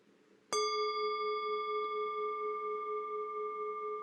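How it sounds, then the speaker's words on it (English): One strike of a meditation bell rings out clearly after a moment of near silence, then sustains a steady, pure tone with bright overtones that lingers without fading through the rest of the clip. "So I will sound the bell, and we will send this out into the ethers"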